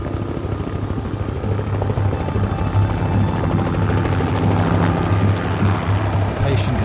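An air ambulance helicopter arriving at a hospital trauma unit, its rotor thudding loud and close in a steady rhythmic chop that builds slightly toward the end, with talk faintly under it.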